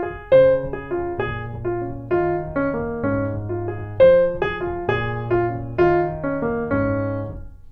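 A keyboard plays a jazz 3-6-2-5 chord progression, with sustained chords struck one after another in an even rhythm, clear and close with no talking.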